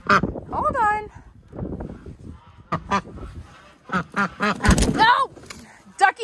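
A pet duck, filthy and brought inside, quacks and honks indoors in short bursts at close range, mixed with a person talking nearby.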